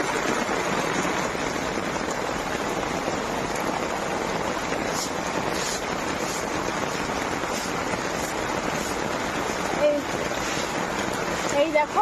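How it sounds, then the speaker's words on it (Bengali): Heavy rain pours steadily outside a house in a downpour with thunder, a dense continuous hiss of water falling on wet streets, loud and unbroken throughout, with water running and splashing nearby. "প্রচুর বৃষ্টি হচ্ছে মেঘ ডাকছে"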